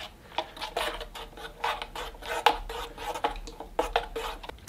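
Fresh ground coffee is stirred with a utensil inside a Jetboil Flash coffee press pot, a quick series of close scraping and clinking strokes in an irregular rhythm, fairly quiet, with no talk.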